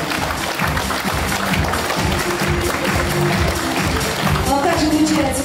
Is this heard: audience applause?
yes